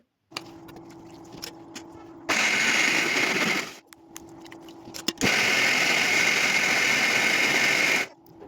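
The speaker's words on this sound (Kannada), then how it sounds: "ಸೊ ಇದನ್ನು ರುಬ್ಕೊಂಡು ಬರೋಣ ಇವಾಗ." Mixer grinder in a home kitchen grinding soaked lentils for dosa batter, two loud close bursts of motor whir, about a second and a half then about three seconds, separated by handling clicks and quiet gaps.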